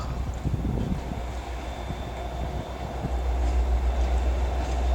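A Class 57 diesel locomotive at Leicester station, a steady low rumble that swells toward the end as it draws closer, with faint platform noise and clicks over the top.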